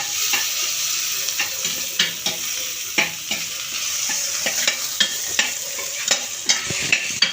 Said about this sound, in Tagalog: Sisil na ginisa with papaya.